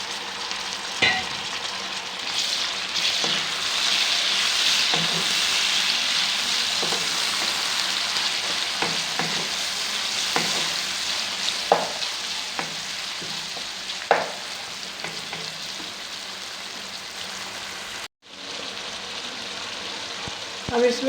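Sliced tomatoes and long cut chillies fry in a pan for a daal mash chicken dish, giving a steady, close, rain-like sizzle broken by occasional clinks and scrapes, with a brief lull near the end.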